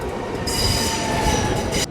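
A train pulls through a station at La Spezia on the Cinque Terre line, with steady loud rumbling and wheel noise and a high metallic squeal of wheels on the rails, close by and continuous with no talk.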